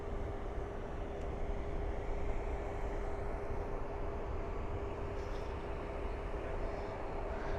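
A 24-year-old Boeing 777-200ER jet airliner departs Dallas Fort Worth airport at night for Paris, a faint, distant, steady engine rumble with a low hum, unbroken and with no voices.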